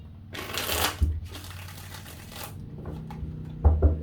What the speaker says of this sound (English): I'm going to give this 3 shuffles.